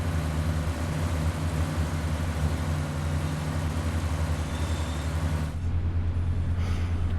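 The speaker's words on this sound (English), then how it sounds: "You do only get one engine sound with the pack," A Cummins diesel engine of a Class 142 railbus in Train Sim World 6 runs as a steady, close, humming drone with strong low harmonics. The tone shifts briefly near the end.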